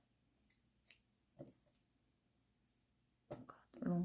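Scissors cutting material for a small handmade craft: a few soft, brief snips spaced apart and close by, fairly quiet, followed by someone talking.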